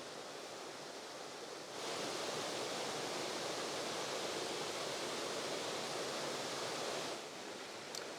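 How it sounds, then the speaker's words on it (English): Small cascades of a Dartmoor brook tumble among boulders, a steady broadband rush of water close by that swells louder through the middle stretch, with no voices. "more small cascades in amongst these boulders down there"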